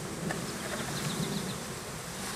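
Honey bees hum steadily while being hived into a box, a continuous close buzzing swarm drone with no talk.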